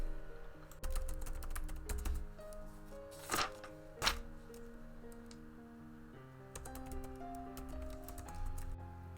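Keys clatter on a computer keyboard in quick, uneven bursts of close clicks as a novel draft gets written, with brief pauses and a few sharper taps between runs.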